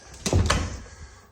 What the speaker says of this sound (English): At least the door closes.